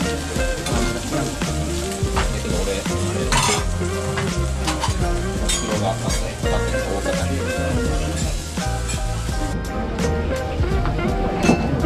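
Okonomiyaki with bacon cooks on a griddle in Hiroshima at night, with loud continuous sizzling and clinking, scraping spatula strokes against the metal, and busy restaurant background noise throughout.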